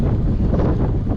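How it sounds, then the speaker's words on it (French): Strong wind buffeting the microphone of a gravel bike rider on a long-distance ride, a loud, continuous low rumble and roar filling the whole short stretch with no other sound. "on a ramassé le vent, mais alors comme jamais"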